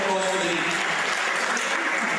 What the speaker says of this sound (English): Please have more round of applause for the team.